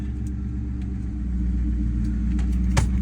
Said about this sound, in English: The car is running extremely freaking smooth right now.